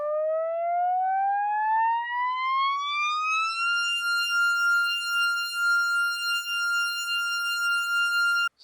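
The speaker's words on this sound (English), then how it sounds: "I took a sound shifter. So it's just a sine wave." A synthesized sine wave tone from a sound shifter rises steadily in pitch for a few seconds, then holds one bright steady note with clean harmonics, loud and alone until it stops abruptly.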